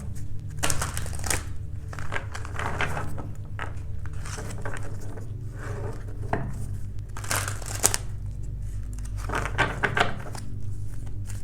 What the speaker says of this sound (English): Like shuffling a little bit more.